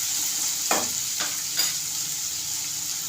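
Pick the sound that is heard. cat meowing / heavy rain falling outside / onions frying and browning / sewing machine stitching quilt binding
onions frying and browning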